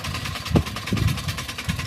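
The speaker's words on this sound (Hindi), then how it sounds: "ये आप देख सकते हैं अच्छी कटाई कर रही है और ट्रैक्टर भी बहुत स्लो है" A tractor-driven chaff cutter chops fodder grass over the steady low drone of the slow-running tractor engine, with a few heavier chopping thumps spaced irregularly through the near, continuous mechanical noise.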